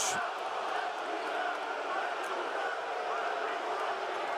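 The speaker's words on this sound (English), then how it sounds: "Crowd besides themselves." A basketball arena crowd at a BYU versus San Diego State game keeps up a loud, sustained roar of cheering across the whole stretch, broad and echoing, with a commentator's voice faintly underneath.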